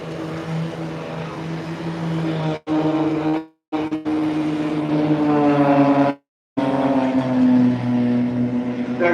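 Red Arrows-style Blades aerobatic display aircraft at the Farnborough Airshow roar past loudly, a steady engine drone with shifting pitch that cuts out briefly twice, with no talk.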